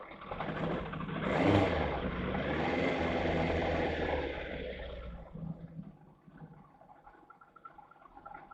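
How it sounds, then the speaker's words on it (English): A motorcycle propped on its main stand runs with its engine idling, a steady low rumble that swells briefly early on and then fades lower toward the end, heard alone. "showing the test footage just with the bike standing on its main stand with the engine running"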